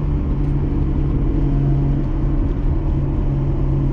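A turbocharged RB25DET engine in a Nissan S14 drones steadily and loudly at close range while accelerating under boost, a constant rumbling roar with a faint whine, continuing without pause.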